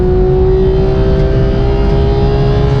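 Porsche GT3 engine pulling hard under acceleration, a loud, steady droning engine tone that holds almost unchanged for a few seconds, with no talking over it.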